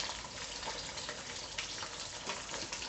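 Steady crackling sizzle of fish frying in a pan of oil, continuous and close, with no voices.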